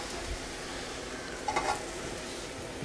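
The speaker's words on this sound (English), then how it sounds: "And I'll just stir this up a little bit." Food being stirred in a pan on a stovetop, a soft scrape of the utensil rising briefly over a quiet, steady sizzle.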